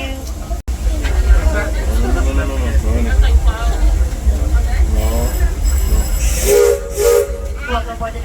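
A Disneyland Railroad steam train rolls along with a loud rumble and hiss, and a steam whistle sounds near the end while people talk over the ride noise.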